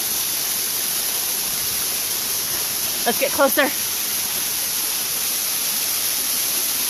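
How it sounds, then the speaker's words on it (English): A waterfall about 30 feet high on a trail, roaring as a dense, steady rush of falling water close by, with a brief spoken remark partway through. "This waterfall is about, I don't know, 30 feet."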